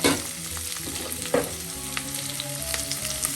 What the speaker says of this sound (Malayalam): വെളിച്ചെണ്ണ ചൂടാകുമ്പോൾ നമുക്ക് 1/2 കപ്പ് ചെറിയ ഉള്ളി